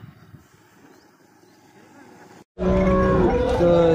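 After a quiet, low murmur, a cow at a cattle market in Modnimb lets out a loud, drawn-out moo very close by.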